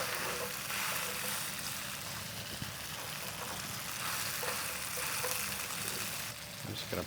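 Breakfast pockets fry face down in oil in a cast iron skillet, giving a steady, close crackling sizzle that holds throughout with small pops and brief quieter dips.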